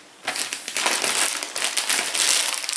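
A plastic bag of craft supplies, such as washi tape from a craft store haul, is crinkled and rustled close up, sharp irregular crackles beginning abruptly and continuing busily throughout.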